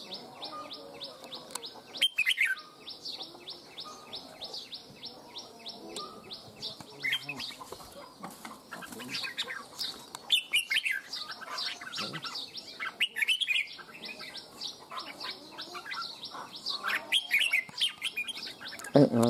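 A red-whiskered bulbul sings loud, full phrases of bright trilling chirps, repeating steadily with short pauses, close by over quiet background.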